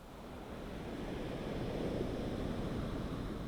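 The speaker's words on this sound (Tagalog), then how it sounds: "Ang lakas ng alon." Strong ocean waves roll in at a La Union beach in the Philippines, a broad, even wash of surf noise that swells slightly and stays steady and moderately distant, with wind across the microphone and no voices.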